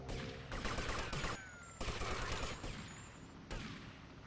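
Bursts of rapid gunfire crackle in several loud volleys, separated by short pauses, sharp and close with a synthetic, game-like quality, from the Grand Theft Auto: Vice City mod Police Stories IV Final.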